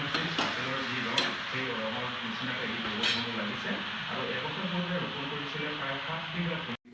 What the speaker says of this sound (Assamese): এতিয়া ভাজি আছে